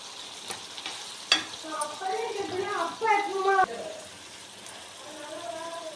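Chopped tomatoes cook down in a pan for a village-style shallot kuzhambu, with a soft, steady sizzle and occasional stirring clicks beneath a voice talking close by.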